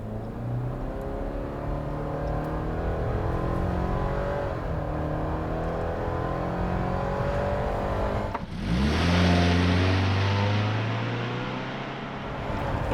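A 2021 Subaru Impreza with a CVT and all-wheel drive launches from a standstill, its engine droning up in a smooth, steady rise heard from inside the cabin, with a sudden surge of louder rushing noise midway.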